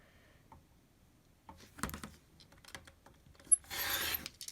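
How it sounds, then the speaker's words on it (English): Rotary cutter slicing quilt fabric corner to corner along a marked line, with a few light scraping and clicking handling sounds followed by one steady, close cutting swipe near the end. "since I have the rotary cutter out, I might as well just go ahead and cut right here, exactly on the line"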